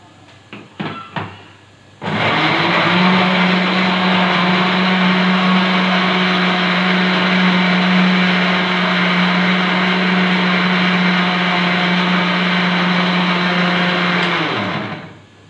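An electric grinder blends tomato, green chili, ginger and garlic into a paste, running as a loud, steady whir for about twelve seconds after a few short knocks, then cutting off.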